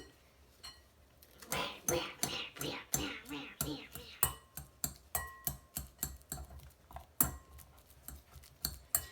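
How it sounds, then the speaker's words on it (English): Ripe bananas being mashed with a whisk in a bowl, giving a steady run of close, sharp metallic clinks and squelchy taps in an irregular rhythm, with a little talk in the background. "And you're going to mash them up as I open them up."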